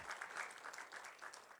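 A church congregation claps together in praise, a soft, distant patter of many hands with a faint regular rhythm, steady across the short stretch.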